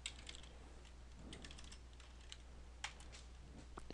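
Soft clicks of a computer keyboard as commands are typed for configuring Cisco routers, irregular keystrokes with a few sharper taps, faint and close over a low steady hum, with no talking.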